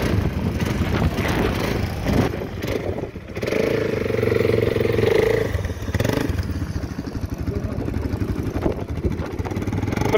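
A quad bike engine revs and labours while dune bashing over inland desert sand near Sealine Beach, Qatar, a loud, continuous motor drone with rising and falling pitch and some rattling clatter, close by.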